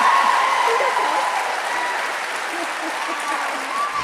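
An audience at a Wellesley College event with a guest speaker bursts into loud, sustained applause that eases slightly but continues throughout, with a voice faintly audible beneath the clapping.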